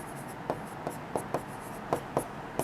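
Pen strokes on paper while working a class 6 fractions problem, a series of short, crisp scratches at an uneven rhythm, close and fairly quiet, with no talk.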